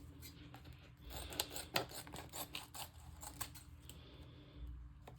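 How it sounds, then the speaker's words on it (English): Scissors snip and rasp through stiff plastic packaging around the edges of a dried-flower resin coaster kit, giving close, irregular crunchy cuts over a low background hum. "I'm cutting off the plastic around the edges"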